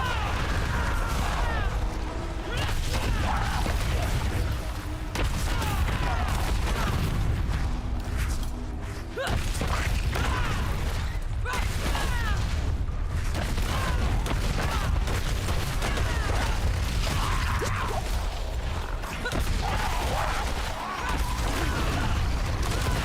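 Explosions and heavy combat from Diablo 4 Season 2 burst repeatedly over a dense, loud mix of game effects and booms that runs throughout.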